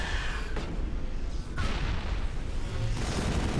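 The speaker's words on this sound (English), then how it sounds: "Check out the explosions, jeez, though." Explosions in a space video game sound as a dense, loud rumbling barrage, with fresh booming bursts striking every second or so over continuous roar.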